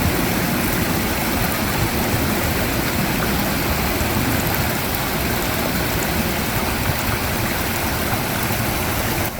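Clear spring water rushing steadily through the Muju Gucheondong valley on Deogyusan mountain, a dense, even, close-up wash of flowing stream with no pauses and no voices.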